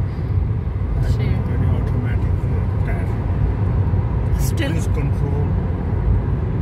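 A car cruising along a road at dusk on a long drive, steady low engine and tyre rumble filling the interior, with brief higher swishes from passing traffic.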